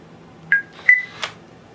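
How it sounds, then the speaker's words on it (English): A TCL D2 Pro smart lock keypad gives three short electronic beeps as a PIN is entered, spaced unevenly and heard close in an otherwise quiet room. "I believe at this point it should take the PIN number that I put in"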